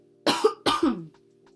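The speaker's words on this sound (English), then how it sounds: "But let me just clear my throat." Two sharp, close throat-clearing coughs from one person, quick and back to back, in a quiet indoor room.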